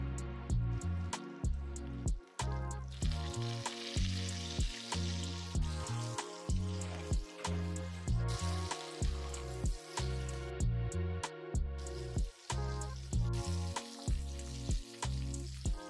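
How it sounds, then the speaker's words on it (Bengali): Cauliflower pieces frying in hot mustard oil with salt in a wok, giving a steady crackling sizzle with rhythmic scraping or stirring knocks, close and fairly quiet, with no talking. "আর এই হাফ টিস্পুন মতো নুন দিয়ে আমি কপির টুকরোগুলো ভালো করে ভেজে নিচ্ছি"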